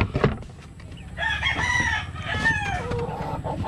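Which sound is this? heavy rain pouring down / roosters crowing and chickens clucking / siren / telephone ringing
roosters crowing and chickens clucking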